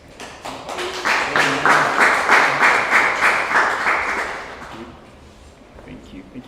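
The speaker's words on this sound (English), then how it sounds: "just clap for her" Audience applause at a church-family digital marketing workshop, a burst of steady clapping from a crowd that swells for about four seconds and then fades, with a few voices in the room.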